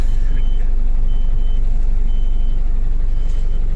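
A heavy truck engine rumbles loudly and steadily up close as the truck sets off, with faint beeping in the background.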